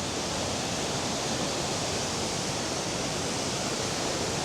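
A river in South Wales rushes into a limestone canyon after a storm, a dense, constant roar of flowing water, loud and unbroken from start to finish, with no voices.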